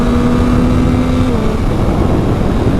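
A 2021 Yamaha MT-09 SP motorcycle rides on a highway, its loud engine drone mixed with heavy wind rush, steady and close throughout.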